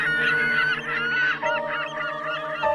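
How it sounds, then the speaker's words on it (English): A dense, loud swarm of geese-like birds honking and squawking together in an audio drama scene, a continuous clamor of many overlapping calls with no talking. "Then a cyclone of birds thunders from the trees."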